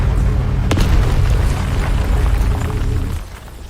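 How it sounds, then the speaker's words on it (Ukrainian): A loud, deep explosion in the video game Mass Effect: Legendary Edition rumbles and roars for about three seconds, then cuts off abruptly into quieter background. "Потужний вибух."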